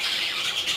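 Pet birds kept in a cage let out a quick burst of harsh squawks and chirps, close and fairly loud, lasting under a second with no voices.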